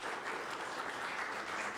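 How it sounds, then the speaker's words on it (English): Short burst of audience applause for a girls' softball team's coaches at a team gathering, a steady wash of clapping with no pause and no clear talk. "can we give your coaches a round of applause because they've spent a lot of time"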